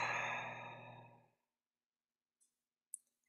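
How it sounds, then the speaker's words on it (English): A single deep, breathy exhale is released slowly during a guided meditation and fades out over about a second. Near silence follows, broken only by a couple of faint clicks. "taking a deep breath in, fully releasing out"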